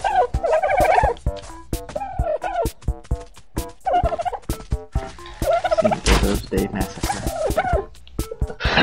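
Dodo birds in the survival game Ark call over and over in loud, gobbling, turkey-like squawks, many birds close together with sharp clicks and thuds between the rapid calls.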